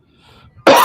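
A single sharp, close cough bursts out after a brief moment of near silence.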